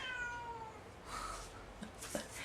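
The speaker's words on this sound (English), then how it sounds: "My cat is on the other side of this door crying." A cat cries on the other side of a closed door, its muffled meows rising and falling in a drawn-out wail early on, then a few shorter calls toward the end, heard at moderate distance from indoors.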